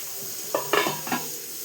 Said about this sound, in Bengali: আলু মটর তরকারি বলতে মশলাটা বসাচ্ছি